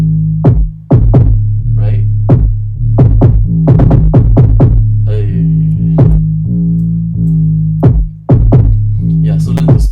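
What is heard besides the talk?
K-pop style beat with 808 bass and spaced-out kicks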